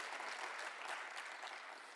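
Audience applause in a university lecture hall at a journalism center evening event, a steady dense wash of clapping sustained throughout without voices.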